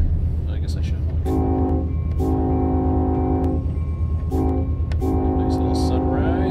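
Southbound freight train in the Run8 simulator, rumbling continuously with several long, loud horn blasts in repeated bursts over the low rail noise.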